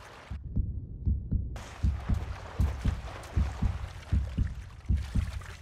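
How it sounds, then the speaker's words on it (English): Heartbeat effect from the video game Uncharted 3, a steady lub-dub thump repeating about every 0.75 seconds, low and prominent, with a brief quiet gap in the background ambience early on. "Is that my heartbeat?"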